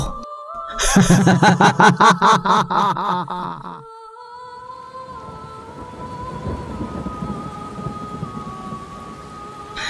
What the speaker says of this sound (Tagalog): Nanatili naman na malakas ang pag-ulan.